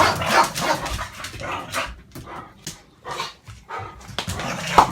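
Dog barking repeatedly in sharp, close bursts with brief whimpering yips between them, the barks irregular in rhythm and fairly loud.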